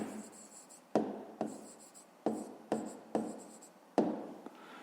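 Pen writing by hand in a notebook during a fifth-grade math exercise: several short scratchy strokes, each starting with a sharp tap and trailing off, close and alone without talk.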